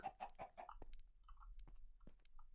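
Chickens in the video game Minecraft, a quick series of close clucks followed by scattered sharper clucks and blips, faint overall with a low hum beneath.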